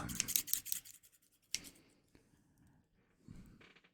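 Scissors snip in quick, crisp bursts at close range, a cluster of rapid cuts followed by a few isolated snips and a softer rubbing rustle, intimate and quiet with no voices.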